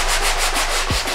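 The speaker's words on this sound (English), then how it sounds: "now we're gonna start sanding" Old cabinet surfaces being sanded after a TSP wipe-down, with steady close rhythmic back-and-forth rubbing strokes that stay loud and even throughout.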